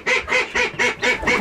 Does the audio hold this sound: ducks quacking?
yes